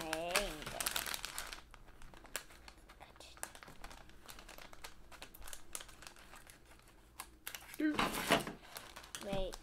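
Foil blind bag of a Lego DC minifigure being cut and torn open, with loud crinkling and crumpling bursts at the start and end and softer rustling between, close up, with a voice talking over parts of it.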